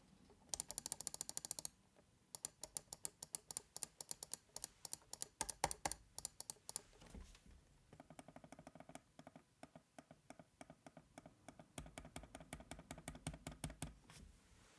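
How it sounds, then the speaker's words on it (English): Rapid bursts of soft, muted clicks from a Logitech MX Master 3S mouse, quick and rhythmic, close by and fairly quiet, with brief pauses between runs. "the click noise is far quieter"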